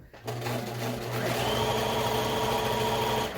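A serger sewing machine stitches fabric for a face mask with elastic, starting up after a brief pause and then running in a fast, steady, close mechanical whir to the end.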